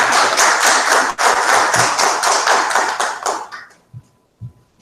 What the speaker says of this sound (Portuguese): eu quero pedir esse plenário para dar uma salva de palmas a todas as nossas mães